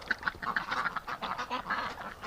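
Several ducks quack in a quick, uneven run of calls, close and fairly clear over a soft outdoor background, with no voices.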